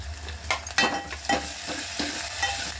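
Golden-browned onion with tomato frying in a pan, a steady close sizzle broken by several rhythmic scrapes of a spatula stirring.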